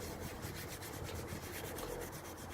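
Abrasive sanding along the edge of a diamond cut alloy wheel rim, a continuous close rubbing scrape with faint rhythmic strokes and no voices.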